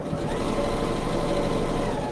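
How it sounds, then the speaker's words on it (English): A sewing machine lock stitching back and forth over a middle seam on a shopper tote bag, a steady close mechanical whir running without pause and no talking. "I'm going to lock stitch again."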